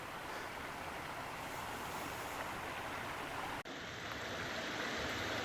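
Water trickles and rushes along a stream in a canyon beside a grove of palm trees, a steady broadband wash with no voices, briefly cut partway through before continuing.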